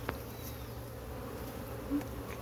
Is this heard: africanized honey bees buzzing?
yes